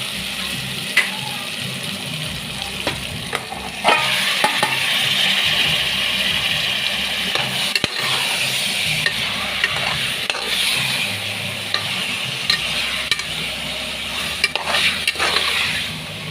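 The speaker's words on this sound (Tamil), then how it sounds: "இப்போ வந்து நம்ம கறியை ஆட் பண்ணிக்கலாம்" Mutton pieces stirred and frying in a pan with onion and ginger-garlic paste for mutton kuzhambu, a steady close sizzle with repeated scraping stirs, no voices.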